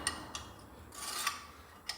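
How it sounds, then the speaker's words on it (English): A metal part gets a quick scrape-off with a small tool, giving faint rasping strokes and a few sharp ticks in a quiet workshop. "Give that a scrape off before"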